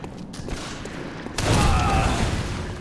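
Loud burst of gunfire in the video game Bloodborne, starting with scattered shots and then swelling into a dense, sustained volley with a rumbling low end and ringing tail.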